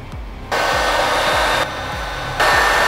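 A heat gun blasts steadily while warming a motorcycle fork tube to loosen it, a loud continuous airy roar that steps up and down in intensity, with a faint rhythmic low thumping underneath.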